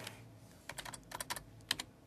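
Fast, light keystrokes on a computer keyboard, irregular bursts of close typing with short pauses between clicks, quiet and alone.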